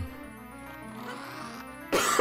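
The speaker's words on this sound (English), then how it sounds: "Still coughing." A single harsh cough bursts out near the end, loud and close, after a stretch of quiet background from a Zelda Ocarina of Time game.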